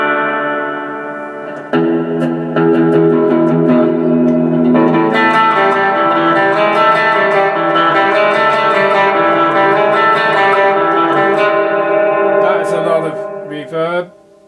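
Electric guitar played through a spring reverb set to maximum, giving sustained, dense strummed chords with a thick wash of reverb that lasts for many seconds before cutting off.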